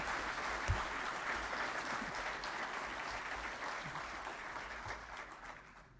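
Applause from the audience at a fall honors graduation ceremony, a sustained crowd of clapping hands that fades slightly toward the end.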